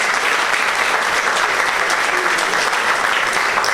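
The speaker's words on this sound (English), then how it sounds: "Round of applause." Loud, dense applause from a crowd at a political party's local government campaign launch in Trinidad and Tobago, sustained and steady for the full stretch with no pauses.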